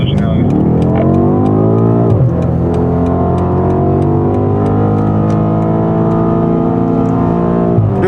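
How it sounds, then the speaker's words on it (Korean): A 2020 BMW M8 Gran Coupe Competition accelerating hard in sport mode, a loud, close engine note rising steadily in pitch with a brief dip at a gear change, heard under continuous talk from inside the car. "가속 페달을 굳이 끝까지 안 밟으셔도 얘는 뭐 어마어마한 가속력을 냅니다"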